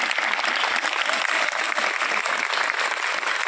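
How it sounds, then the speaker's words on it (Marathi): An audience claps steadily and loudly, a dense unbroken wash of many hands at a Marathi Language Day gathering, with no speech over it. "तर टाळ्या जोरदार झाल्याच पाहिजे."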